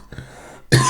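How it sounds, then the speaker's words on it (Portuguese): A single cough near the microphone during a home knitting lesson, a short muffled throat sound followed by a sharp, loud burst close to the end. "Desculpa, gente, estou com tosse alérgica hoje."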